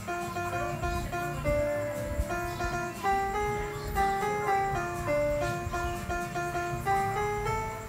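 A single-note melody played on a keyboard with a bright, chime-like tone, notes stepping in a quick rhythmic pattern, close and moderately quiet with no voices.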